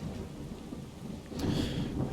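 Steady rain and a low thunder rumble in the video game Assassin's Creed Odyssey, a constant dense wash of falling water with a slightly louder swell near the end, heard alone without voices.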